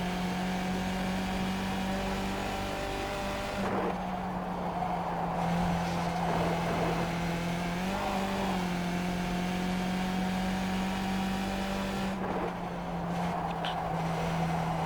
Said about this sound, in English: You can still hear me feather the throttle pedal